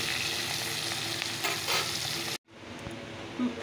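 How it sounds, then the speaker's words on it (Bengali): Fish roe frying in a pan gives a dense, loud sizzle that cuts off abruptly, then resumes more faintly. "মাছগুলো ভাজা হয়ে গেছে, মাছের ডিমগুলো ভেজে নিলাম"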